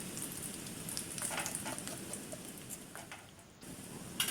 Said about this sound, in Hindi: अब इसे अच्छी तरह से फ्राई होने तक, क्रिस्पी होने तक फ्राई करेंगे।